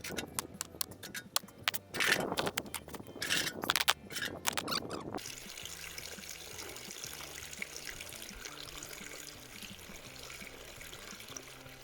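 Water pours and trickles into a garden bird bath or pond in bursts for the first five seconds, then gives way to a quieter steady flow with faint chirping squeaks.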